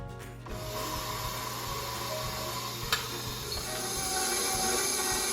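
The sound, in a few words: electric mixer mixing bread ingredients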